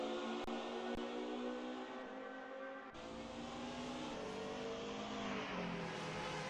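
Race car on its out lap in the DTM Classics racing game, warming its tires: a steady, sustained engine whine holding a constant pitch, shifting slightly around midway, close and continuous with no speech.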